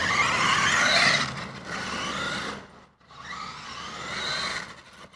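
A Terremoto RC car fitted with a 120A ESC drives past, its motor whining and tires hissing as it swells loud, fades, then comes back for a second close pass, with no voices over it.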